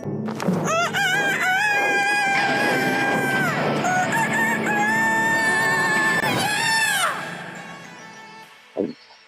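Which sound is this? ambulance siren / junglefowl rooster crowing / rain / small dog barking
junglefowl rooster crowing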